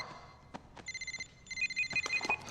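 A cell phone rings in a tense TV drama scene, with a repeating electronic ringtone pattern starting about a second in, fairly quiet against sparse background thumps and clicks.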